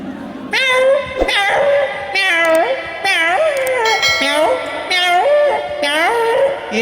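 A human voice imitates a pampered cat, giving about seven drawn-out, wavering meows in quick succession. They are loud and close, with brief gaps between them.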